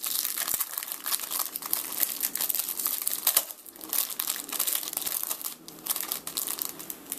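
Plastic wrapping crinkles and tears open around a pack of oversized Magic: The Gathering Commander's Arsenal cards, a steady run of close, busy crackling and crumpling with short sharp rustles and no talking.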